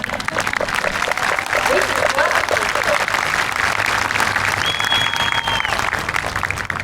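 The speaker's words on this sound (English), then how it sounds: "let's clap again" A crowd claps at a high school graduation ceremony, a dense sustained round of applause with some voices and cheering mixed in, filling the whole stretch at an even level.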